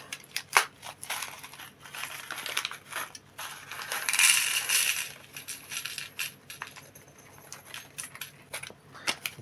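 Small hard plastic network connectors clatter and rattle as they are poured into a box, in bursts with a longer rush in the middle.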